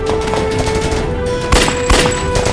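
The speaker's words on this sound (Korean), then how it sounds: "총격에 정신이 팔려있을 때 반대편에서 조명호 전 대통령을 암살하려는 작전 같은데" Gunfire rings out in an action-drama shootout during an assassination attempt on a former president, a steady rattle of rapid shots with two sharper, louder bursts near the end and no speech.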